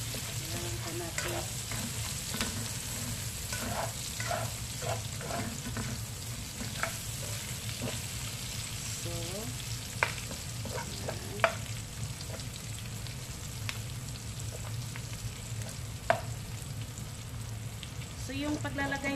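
Pork humba sizzles and fries in a pan while being stirred and turned, a steady crackling hiss broken by scraping utensil strokes and occasional sharp clicks, fairly quiet and close with no talk.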